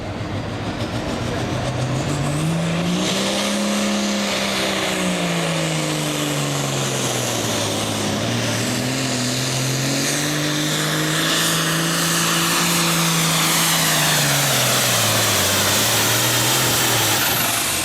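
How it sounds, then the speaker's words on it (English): A heavily modified pulling tractor in the 9,300 super class at the 2003 American Tractor Pullers Association Midwest Summer Nationals roars loud and close throughout. Its engine pitch swells and dips as it keeps revving while the clutch fails. "motor is still turning its RPMs just fine, but it looks like the clutch has gone out of the Edgar King case"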